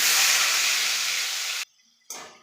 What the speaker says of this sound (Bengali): তেল গরম হয়ে গেছে, আলুটা দিয়ে দিচ্ছি।